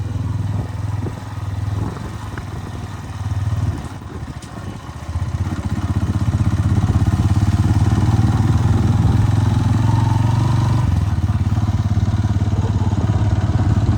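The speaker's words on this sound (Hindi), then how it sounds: "थोड़ा सा पानी है उसमें से बाइक गुजार लेंगे" A motorcycle engine rumbles close and loud while riding through a shallow river, dipping briefly then settling into a steady, heavier drone with some mechanical clatter.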